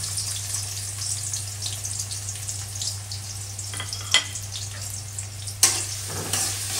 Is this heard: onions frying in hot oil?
yes